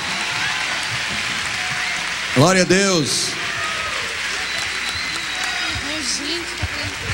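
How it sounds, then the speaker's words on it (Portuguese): Steady applause from a church congregation for Christmas cantata performers, coral singers and street dancers, a continuous patter of clapping under a brief loud voice calling out. "Vamos dar uma linda salva de palmas."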